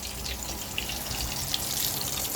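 Chicken pieces fry in oil over a low flame with a steady, close, soft sizzling hiss that holds evenly throughout, no voices over it.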